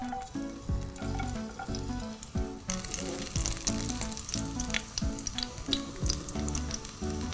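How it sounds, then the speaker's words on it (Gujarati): Garlic being tempered in hot oil hisses in a loud, continuous sizzle with occasional stirring clatter, no voices. "હવે પહેલા લસણ વઘારશું."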